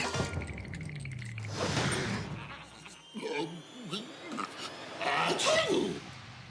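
A single sneeze bursts out near the start, followed by quiet shuffling and a few faint clicks and rustles.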